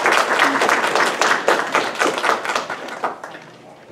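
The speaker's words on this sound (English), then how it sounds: "Can we give all of our candidates a round of applause for being here today?" A crowd at an election candidates' forum claps in a brisk burst of applause that gradually thins and fades out over a few seconds.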